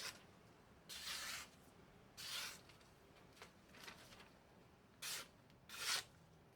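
A freshly sharpened knife with a polished, toothy edge slices through newspaper in five or six short, crisp rasping strokes, each about half a second long, separated by quiet pauses and heard up close.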